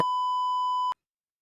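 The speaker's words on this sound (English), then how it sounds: "even though I'm beeping it out" A single steady censor beep, a pure high tone lasting just under a second, then abrupt silence.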